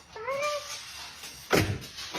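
A cat gives one short, rising meow near the start, close and fairly clear, followed a moment later by a brief thump or rustle; no talk.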